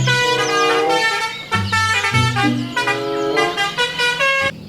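A toy tourist bus plays a telolet horn: a loud, bright melodic honking tune of shifting sustained tones, continuous and close, with no voices.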